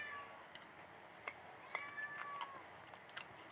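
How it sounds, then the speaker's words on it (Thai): A cat meows faintly several times, with short rising and falling cries spread over a quiet background hiss and a few soft ticks. "โอ้ยแมวร้องเลยเถอะ"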